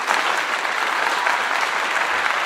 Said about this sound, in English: Give you a clap.